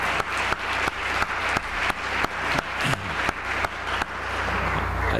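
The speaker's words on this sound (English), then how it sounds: "can we give her a round of applause, congratulating her on that wonderful accomplishment?" A faculty awards banquet audience applauds the Provost with steady, dense clapping that carries on for several seconds, under regular soft thumps.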